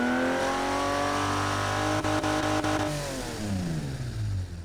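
A car engine in the video game BeamNG revs high and steady, then winds down with a few quick gear-shift dips, loud and close with no talking.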